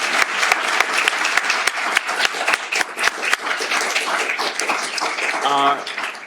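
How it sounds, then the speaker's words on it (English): Audience applause for a panel at a data privacy event, steady moderate clapping with some distinct close claps early on, continuing evenly for several seconds beneath a faint voice near the end. "a round of applause for this panel"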